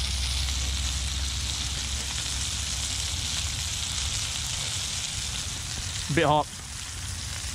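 Pieces of freshly caught flathead fish fry in a pan with a steady, close hiss and crackle that runs throughout, and a voice speaks briefly near the end.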